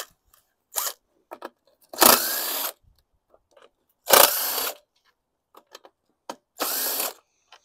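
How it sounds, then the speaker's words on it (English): A power driver with a 5/16 inch (8 mm) bit backs out the recoil screws on a 2016 Yard-Machines lawn mower, giving three short whirring bursts with quiet clicks and handling noises between them. "We got 5/16 or 8 millimeter to remove the recoil screws"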